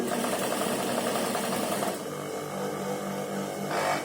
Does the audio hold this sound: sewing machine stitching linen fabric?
yes